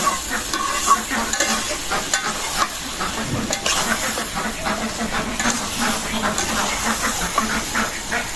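Meat and potato pieces being stir-fried kosha-style in a pan, a loud, continuous sizzle broken by repeated scraping and stirring strokes of a spatula, close by with no talking.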